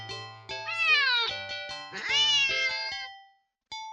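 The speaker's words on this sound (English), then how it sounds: "the cat meows sharply at you and dashes off around the corner and into the hall" A cat gives two loud, sharp meows close by, each rising then falling, followed by a short pause and a brief clipped cry at the end.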